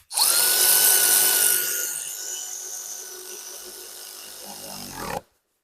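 A powered ratchet whirs steadily for about five seconds, loud and close, on bolts of a Volvo V50's front suspension during a coil spring replacement, its pitch dropping slightly as the bolt tightens before it cuts off abruptly.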